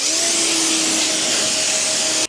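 A cheap pressure washer runs continuously with a loud, steady high-pitched hissing roar and a faint motor hum beneath it, close by and with no talk.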